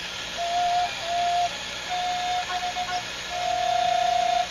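A breathy Native American drone flute, slightly out of tune, plays several sustained notes with short gaps between them, fairly faint against a steady hiss.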